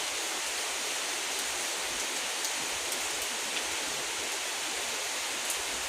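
Rain falling on an open field where boys are playing, a dense, steady wash of hiss with no breaks, even and moderately loud throughout, with faint scattered taps on top.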